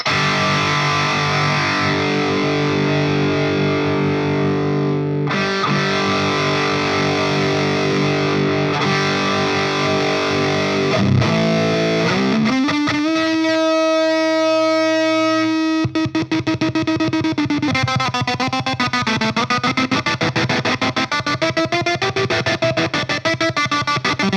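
A heavily distorted electric guitar through a BOSS DS-1 Waza Craft distortion pedal rings out with sustained chords, then shifts to a wavering, pulsing held note as the effect modulates the sound.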